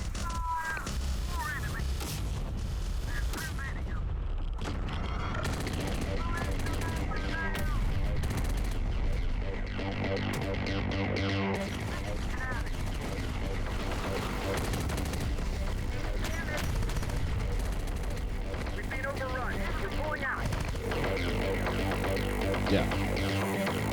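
Artillery fire and explosions aimed at an enemy tank in the strategy game Terminator: Dark Fate Defiance, with steady gunfire crackle and thumping blasts running throughout under a constant battle rumble, with voices talking over it.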